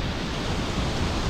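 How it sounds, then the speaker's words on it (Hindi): A waterfall near Rudranag temple on the Kheerganga trek in the Parvati Valley gives off a steady, dense rushing roar, close and loud, with no break or change. "बहुत प्यारा सा झरना,"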